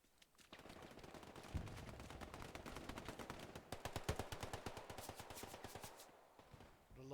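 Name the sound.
machine gun fire in Hell Let Loose video game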